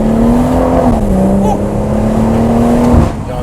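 A loud, steady drone from a BMW M140i straight-six with a de-catted exhaust fills the cabin at a constant pitch, with occasional voices under it.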